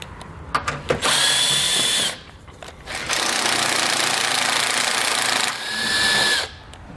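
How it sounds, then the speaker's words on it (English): A power tool spins bolts out underneath a 2017 vehicle while a base plate kit is fitted: two long, loud whirring bursts about three seconds apart, with a few clicks and clunks around them, close up. "we can go ahead and finish removing our bolts here"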